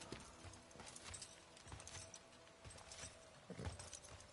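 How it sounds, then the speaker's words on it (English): Horse hooves clip-clop in Teardown on PS5, a quiet, irregular series of soft thuds at a distance, with faint background game noise and no talking. "I hear you, horsey."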